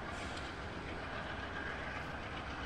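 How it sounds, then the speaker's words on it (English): Passenger train with two locomotives pulling a baggage car and sleeping cars, heard as a steady, loud rumble of rolling wheels with faint rhythmic clatter, continuous and without voices. "Behind the two locomotives, we see a baggage car. The cars behind that are the sleeping cars."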